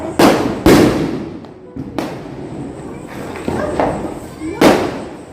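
Colour firecrackers go off at a Diwali celebration at a new house, several sharp bangs spaced a second or more apart, each with a crackling tail, near and loud over background chatter.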